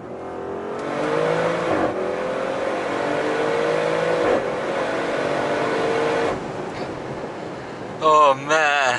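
An Audi RS6 Avant with quattro all-wheel drive, heard from inside as it accelerates hard, the engine note rising steadily with shift breaks, then a few sharp revving bursts at the end. A voice talks faintly underneath.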